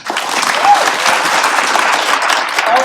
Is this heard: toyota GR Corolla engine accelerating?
no